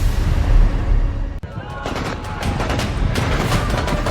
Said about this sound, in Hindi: पीओके के रावलाकोट में प्रदर्शनकारियों पर चल रही गोलियों की ये सबसे नई तस्वीर है